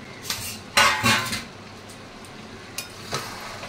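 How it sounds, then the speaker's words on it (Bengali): Metal lid lifted off a pot of simmering country chicken curry, a few close clanks and clatters of metal on metal followed by a couple of lighter taps over a faint sizzle, no voices. "দেখো ঢাকনাটা খুললাম"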